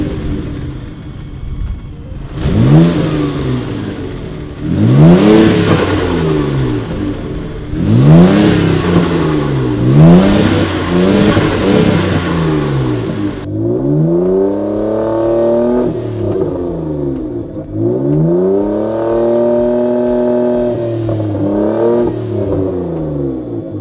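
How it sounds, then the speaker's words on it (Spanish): A 1998 Mitsubishi 3000GT VR4 with twin turbos and a new downpipe revs loudly and close by in a series of sharp, repeated blips that rise and fall, followed by a few longer, smoother revs. "Se escuchan un poco más clarito los turbos con la downpipe."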